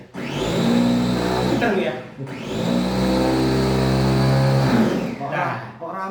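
A food chopper machine's motor whirs loudly in two long bursts, each spinning up quickly, holding a steady high whine and then winding down, with a person speaking briefly between them.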